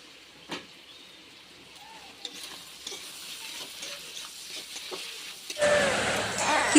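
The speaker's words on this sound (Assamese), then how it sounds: "মছলাখিনি দিয়াৰ পিছত পুনৰ মই মাংসখিনি লৰাই লৈছোঁ।" Chicken meat with spices being stirred in a pan gives faint scraping and light sizzling with occasional clicks of the utensil, then a sudden louder burst of sizzle near the end.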